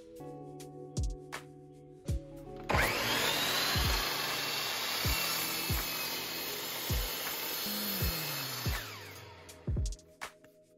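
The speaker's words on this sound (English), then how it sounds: "When cutting with a miter saw, you want to make sure that the edge of your saw is on the outside of the line that you've made." A miter saw cuts wood for a diamond veneer pattern, a loud whining cut of about six seconds, nearby, framed by sharp clicks and knocks before and after.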